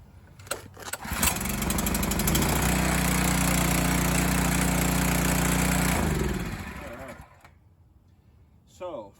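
A small Chinese-brand petrol engine on a Teande 4200 psi pressure washer is pulled over, catches and runs loud and steady for several seconds, then winds down and stops, with a voice briefly audible afterward.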